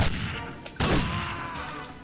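A shotgun blast in the video game 007 Nightfire, a pump-action weapon with a pump function: one sharp, loud report near the middle of the clip, with a softer crack just before it and a reverberant tail.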